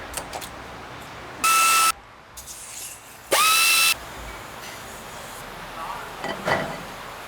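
Jeep caliper bracket bolts, 21 millimeter, being removed with a power tool, two loud high whining bursts about half a second each, separated by metallic clinks and handling noise, close by.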